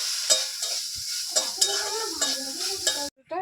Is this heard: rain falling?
no